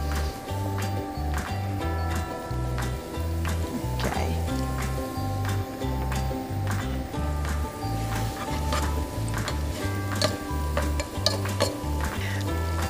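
Chopped onion sautés in a pot, giving a steady sizzle broken by repeated stirring and scraping of a utensil against the pan, close and moderately loud, with faint talk at times.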